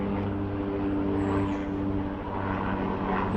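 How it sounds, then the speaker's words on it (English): Very loud propeller airplane passing overhead, a steady droning engine roar with humming tones that shift downward as it moves past, close and dominant with no speech. "A very loud airplane going over."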